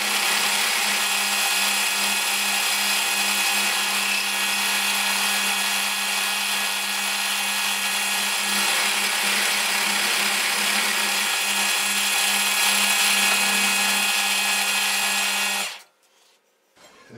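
Milling machine cutting slots and clamping holes around metal panels for a rotary head case, a loud, steady high-pitched whine with a low hum beneath that runs unbroken for about fifteen seconds and then stops abruptly.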